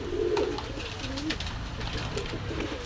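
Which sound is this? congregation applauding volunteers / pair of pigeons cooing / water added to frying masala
pair of pigeons cooing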